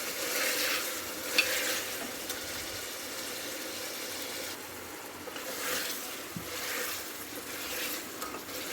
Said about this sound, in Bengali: মাংসটা আমি ভালো করে কষিয়ে নিচ্ছি